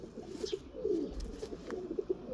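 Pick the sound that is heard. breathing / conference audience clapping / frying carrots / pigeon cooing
pigeon cooing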